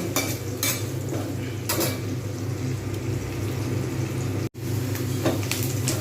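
Sliced onions frying in a pan for a potato chicken curry, a steady loud sizzle with intermittent scrapes of a spatula stirring against the pan and a brief dropout near the end.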